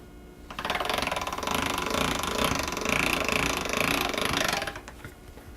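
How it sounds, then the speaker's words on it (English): A hand-cranked pasta machine rolls pasta dough through its rollers at a thin setting, producing a close, steady rattling whir for about four seconds that starts and stops abruptly, with no talking. "So my machine, my little dial here, goes from 1 to 7. 7 rolling the thinnest pasta."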